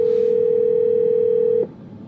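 On an outgoing phone call, a steady electronic ringing tone plays loud and close for about a second and a half, then cuts off into quiet line noise.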